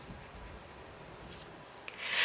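Colour pencil shades lightly on paper with soft, close scratchy rubbing strokes that swell into a louder rasp at the end, with no talking.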